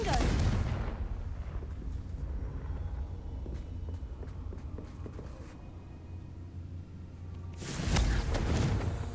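Confringo blasting spell explosions in Hogwarts Legacy, loud bursts at the start and again near the end, with a lower rumbling stretch of combat noise between them.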